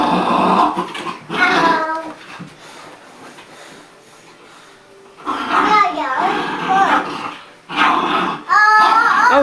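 A puppy growls, whimpers and yips in bursts at close range, its high yelps alternating with a voice and other people talking.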